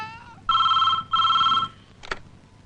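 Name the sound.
telephone ringing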